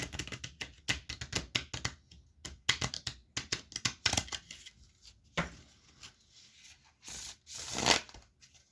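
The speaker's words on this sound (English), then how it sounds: "So we'll give this deck a shuffle here" Someone shuffles a tarot card deck by hand in a quiet room: close, crisp riffling bursts and soft slaps in uneven clusters, pausing briefly between passes, with a longer brushing riffle near the end.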